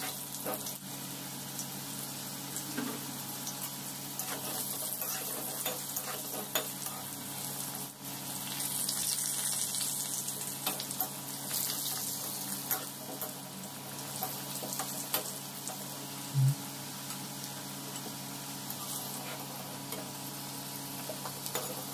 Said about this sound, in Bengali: পেঁপেগুলোকে খালি ফ্রাই করব।